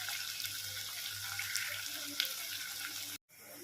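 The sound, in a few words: onions frying in a pan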